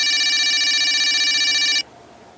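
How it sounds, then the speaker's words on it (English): A red tin can toy phone rings with a bright, continuous electronic trill, loud and close, then cuts off abruptly, leaving near silence. "Suddenly, the red tin can phone started to ring."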